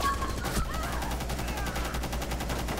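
Sustained rapid automatic gunfire aimed at an enemy in a video game, a steady unbroken stream of shots lasting the whole moment without pause.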